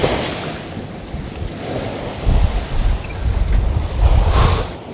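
Strong wind buffets the microphone while waves surge and break around a sailboat on the North Sea, steady roaring with louder swells near the end; no speech.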